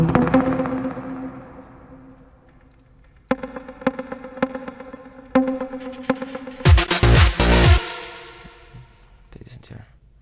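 A plucked synth from the Nexus plucked expansion in FL Studio, with bright decaying plucked notes struck one at a time, then a burst of fast sharp hits before the notes fade out.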